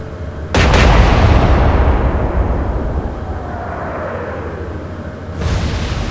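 Naval artillery fires in the Atlantic Fleet naval battle game: a loud, deep broadside boom with a long rumbling decay, then a second blast near the end.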